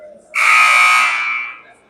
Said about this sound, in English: All right, that's the buzzer.